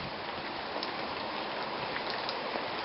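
Steady rain falls in a desert area, a dense, even hiss of drops on surfaces holding at constant loudness throughout with no voices.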